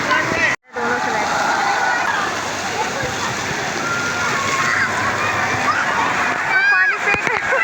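Water sloshing and splashing at water park slides, a continuous wash of spray under babbling voices and shouts from the crowd, with a brief drop-out near the start.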